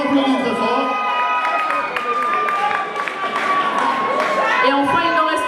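A crowd claps and cheers loudly and continuously for a contestant at a Miss Cameroun Suisse pageant final, with shouts and whistles over steady applause.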